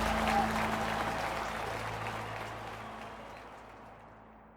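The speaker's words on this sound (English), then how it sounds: "The crowd cheers as Ulysses walks straight to his wife, Julia." A crowd cheering and applauding as Ulysses S. Grant walks to his wife Julia: a steady, distant wash of applause that slowly fades away, with a low hum underneath.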